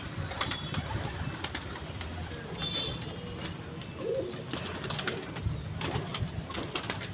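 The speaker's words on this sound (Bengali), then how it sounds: "পায়রাগুলো এখন সন্ধ্যের সময় ঢুকছে না" Pigeons of a golden-eye breed coo softly in a loft at dusk, with low gurgling calls under faint chirps and sharp ticking sounds, all fairly quiet and steady.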